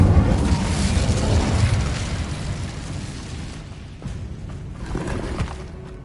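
An Incendio fire spell blasts in Hogwarts Legacy, a loud whooshing burst that roars up front and slowly fades into lighter crackles and scattered impacts.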